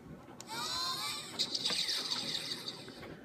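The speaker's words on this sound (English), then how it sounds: "you can also hear the printer printing" A Young Toys Biklonz Infinity toy's printer whirs and hums continuously, with scattered mechanical clicks and ticks as it runs.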